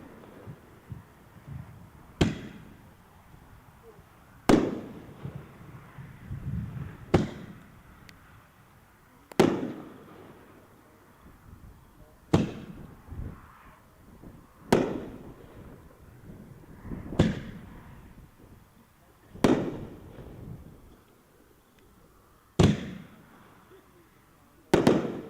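Dominator aerial fireworks burst high overhead at an outdoor dealer show on a windy day, about ten sharp booms spaced a couple of seconds apart, each trailing off with faint crackle and rumble, with no talking.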